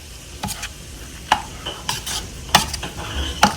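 A spoon stirs flour into melted butter, seasoned with salt and pepper, for homemade creamed corn. The scraping is punctuated by several sharp clinks against the pan at an uneven rhythm, close and clear, with no talking.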